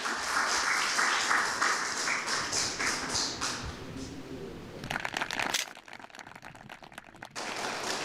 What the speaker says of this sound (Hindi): आइए जोरदार तालियां इनके लिए बजाइए